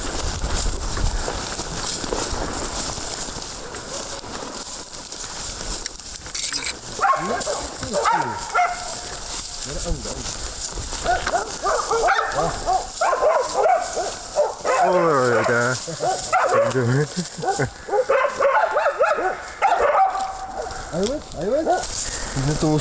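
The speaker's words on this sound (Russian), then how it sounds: "На соболя обычно так лают, с остановками." Hunting dogs bark at a sable they have treed in a Siberian forest, barks coming in bursts with pauses, mixed with yips and whimpers, moderately distant against wind and steady outdoor noise while someone talks.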